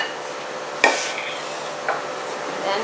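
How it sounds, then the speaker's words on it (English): Flour, baking soda and salt are stirred together in a bowl for Filipino binangkal, giving soft scraping and swishing with a couple of sharper utensil knocks against the bowl. "There, we'll mix them together."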